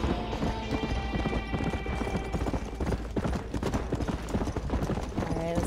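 Horse hooves clip-clop at a steady gallop in the video game Red Dead Redemption, loud and continuous beneath game music and effects.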